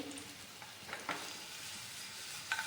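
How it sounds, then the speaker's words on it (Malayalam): Ginger and garlic dropped into hot oil for a tender jackfruit dish: a soft, faint frying hiss with a few light scrape and tick sounds from the spoon. "നല്ല ഇഞ്ചി വെളുത്തുള്ളി ഇതിൻ്റെ അകത്തിട്ട് കേട്ടോ ചൂടായ എണ്ണയിലേക്ക്"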